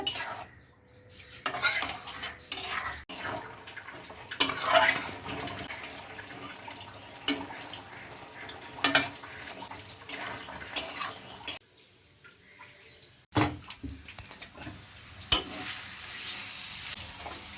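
Cabbage paste being sautéed dry in a pan, with repeated scraping and stirring of a utensil against the pan over a soft sizzle, in uneven bursts with brief pauses; no talking.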